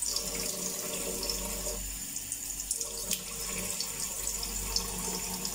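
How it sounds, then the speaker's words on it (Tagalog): Water runs steadily from a tap into a sink during face washing, a close, continuous hiss and splash with small shifts in flow partway through. "hilamos ko muna ng tubig"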